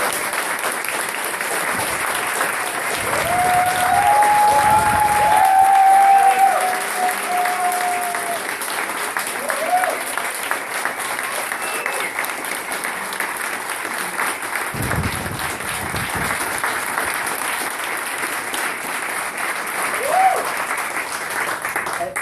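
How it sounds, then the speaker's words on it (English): Audience at a talk on sustainability and innovation breaks into sustained applause, a dense even wash of clapping that continues steadily, with a few brief voices briefly rising above it. "Now you can applaud."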